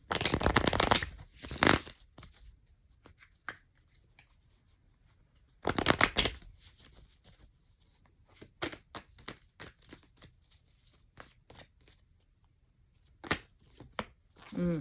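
Tarot cards being shuffled by hand, several brisk riffling bursts separated by quieter pauses with soft taps and card handling close to the microphone.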